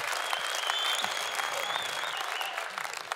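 A theatre audience at a televised Uzbek singing contest claps in dense, sustained applause, loud and even throughout, with faint crowd murmur beneath.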